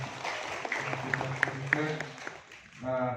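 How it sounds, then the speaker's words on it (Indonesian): An audience at a seminar on village regulations claps for the speaker, a brief scatter of applause mixed with voices talking. "kasih aplaus kepada Ibu narasumber kita"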